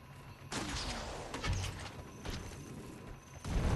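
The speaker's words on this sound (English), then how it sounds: "As you can see, the net turret fires away some nets" Guild Wars 2 engineer net turret firing nets, a series of sharp launches at irregular intervals over a steady mechanical background, moderately loud, with a heavier thump near the end.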